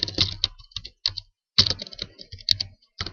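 Bursts of quick clicking keystrokes on a computer keyboard as code is typed, close and crisp with short pauses between runs, no voices.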